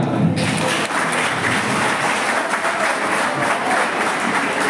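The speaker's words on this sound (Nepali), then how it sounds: "यसको लागि ताली" Loud, sustained applause from a large crowd at a higher secondary school event, a dense wash of clapping that fills the whole stretch without pause.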